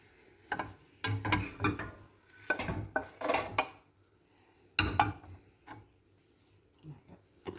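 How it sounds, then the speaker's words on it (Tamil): Raw peanuts stirred in a hot kadai pan give close, irregular bursts of scraping and rattling, with short pauses between strokes and no talking. "பட் கிளறிட்டே இருக்கணும்"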